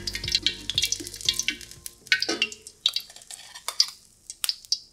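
An egg frying in oil in a pan while cooking Thai-style nasi goreng USA, with crackly sizzling bursts and clinking utensil taps, moderately close and loud, with no talking.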